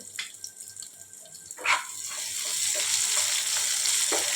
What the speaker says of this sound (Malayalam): അതിൽ ആവശ്യമായ 200 ഗ്രാം ഉള്ളിയും ചെറിയ ഉള്ളിയും 2 പച്ചമുളകും ഇട്ട് ഒന്ന് ചുവക്കുന്നത് വരെ വഴറ്റുക